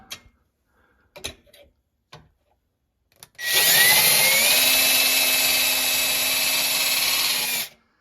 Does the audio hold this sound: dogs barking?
no